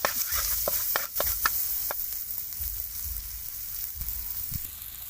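Garlic fries in hot oil and butter, producing a loud, close, crackling sizzle with sharp pops and a few spoon clicks early on, settling into a steady hiss, with no talking.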